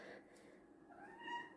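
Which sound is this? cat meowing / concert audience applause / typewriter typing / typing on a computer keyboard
cat meowing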